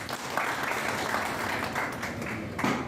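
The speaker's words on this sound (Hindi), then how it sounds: "उनका भी स्वागत है, ताली बजा दें जरा।" Applause from a small audience at a GST workshop in Jhansi, a steady patter of clapping lasting a few seconds, moderately loud and close, with no talk over it.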